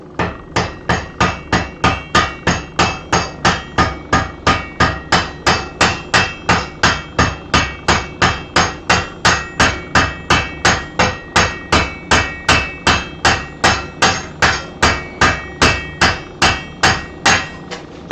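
A hammer strikes hot metal while a fork is forged, a long run of loud, evenly spaced ringing blows at a steady rhythm, close up and with no voices.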